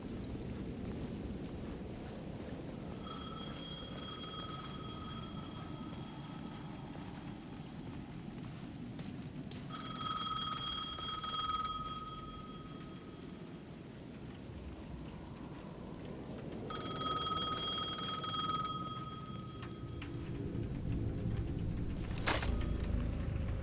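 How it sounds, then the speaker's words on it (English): A payphone at the edge of a plaza in Alan Wake 2 rings in three separate bursts over steady heavy rain. A deep rumble and a sharp crack come near the end. "The payphone at the edge of the plaza was ringing again."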